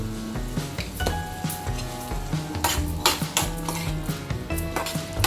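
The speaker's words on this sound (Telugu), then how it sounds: "వేసి బాగా దగ్గరగా వేగనివ్వాలండి టమాటాలు బాగా వేగాలి" Tomatoes sizzle and get stirred in a pan with salt and turmeric for a coriander tomato chutney. Steady frying crackle and scraping spoon strokes sit close, over background music, with no talking.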